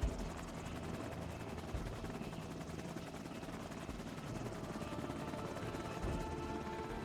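A helicopter in a video game roars with a steady, dense rotor drone, loud and close, with occasional faint thumps mixed into the constant noise.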